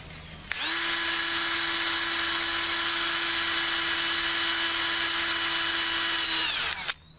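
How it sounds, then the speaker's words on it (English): A power drill bores a hole in salvaged material for a homemade fire starter, a loud steady high whine that starts abruptly, holds an even pitch for about six seconds, then winds down and stops. "I'm going to drill a hole"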